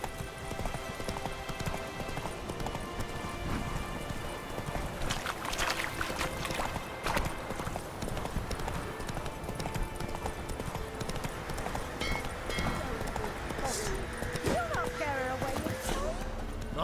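Horse hooves clip-clop at a steady gallop in The Witcher 3 on PC, running under a continuous bed of game music and ambience with no speech.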